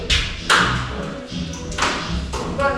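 A hammer strikes a kitchen fixture during demolition of a Midcentury Modern kitchen, giving several sharp, loud knocks and thuds at uneven intervals with ringing tails, close to the listener.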